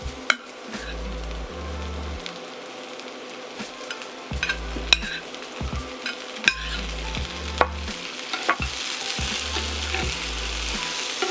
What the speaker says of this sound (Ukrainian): І тепер просмажую перець до тих пір, поки він не стане м'яким.